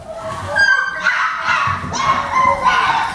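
Beagle puppies bark and yip in high, short bursts while playing, several close yaps with small whimpering tones in a lively, irregular rhythm.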